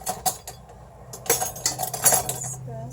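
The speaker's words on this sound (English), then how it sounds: "Grab a spoon and a knife." A spoon and a knife are picked up with a few light metallic clinks and rattles of cutlery, close and brief, with scattered handling clatter and a voice talking.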